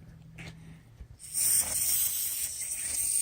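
Brake cleaner sprayed from an aerosol can onto a Mustang front brake caliper bracket, a sudden close, loud hiss that starts after a second of quiet and holds steadily to the end.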